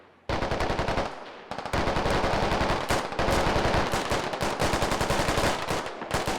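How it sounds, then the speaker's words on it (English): Rapid automatic gunfire in the military shooter game Squad, loud sustained bursts of fast repeated shots with brief pauses between strings, close and dominant. "Got a lot of blind firing here from Russia"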